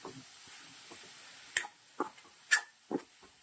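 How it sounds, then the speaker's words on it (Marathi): A spatula scrapes and turns a stuffing filling in a pan over a low flame, giving four distinct scraping strokes at roughly half-second intervals. They sit above a faint, steady sizzle, and no one speaks. "पूर्ण सारण खालीवर परतून घ्यायचं आहे आपल्याला।"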